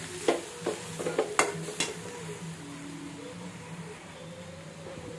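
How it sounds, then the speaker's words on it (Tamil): A spoon stirs cabbage kootu with grated coconut in a pan, giving several quick clinks and scrapes early on before settling into a soft, steady sizzle with no voices. "இப்போ வந்து தேங்காய் போட்டு அப்படியே கிண்டியாச்சு."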